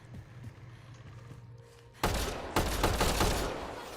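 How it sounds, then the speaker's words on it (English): A shotgun firing in Mass Effect Andromeda, two loud booming blasts about half a second apart breaking a quiet, ambient lull, each followed by a ringing tail. "Oh, it's a single shotgun."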